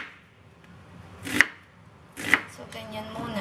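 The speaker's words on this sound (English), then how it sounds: "Let's get chopping." Two crisp knife chops on a cutting board while preparing food at home, sharp isolated strikes about a second apart with quiet room tone between and no voices.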